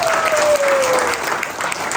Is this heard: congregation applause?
yes